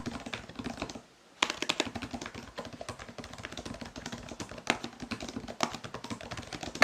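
Quiet, rapid typing on the keyboard of a Lenovo ThinkPad P14s Gen2 laptop, close up, with dense soft key clicks and one brief pause near the start.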